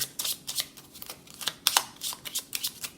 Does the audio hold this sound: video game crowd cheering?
no